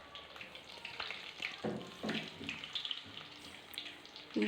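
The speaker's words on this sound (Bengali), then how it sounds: "একটা একটা করে ফুল ব্যাটারে ডুবিয়ে ডুবিয়ে ভালোভাবে ভেজে নিচ্ছি" Batter-dipped bok flowers deep-fried one at a time in hot oil, a close, busy crackling sizzle with bursts of spattering and bubbling throughout, fairly quiet overall.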